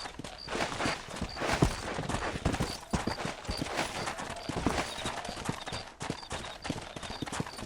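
Horse hooves clip-clop steadily on the ground in the Red Dead Redemption video game, a close, continuous galloping rhythm with a faint jingle of tack over a broad outdoor wash, no talk.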